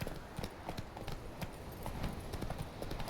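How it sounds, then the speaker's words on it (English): Horse hooves gallop in The Witcher 3 with a quick, steady clip-clop rhythm. The beat is close and fairly quiet, and no voices come through. "Double press and hold shift while moving to gallop."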